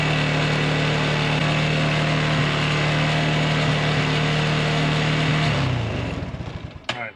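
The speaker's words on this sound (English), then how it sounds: "That idle is way too high." An Arctic Cat 300 4x4 ATV engine idles too high with a steady, loud, buzzing drone, then winds down and cuts out near the end.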